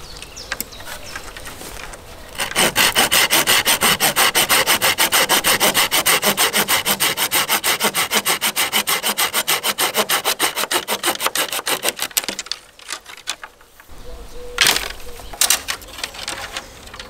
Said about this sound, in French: la scie que m'a prêté Thierry, ça m'en rappelle une autre